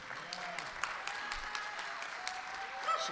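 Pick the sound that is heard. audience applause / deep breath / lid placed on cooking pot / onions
audience applause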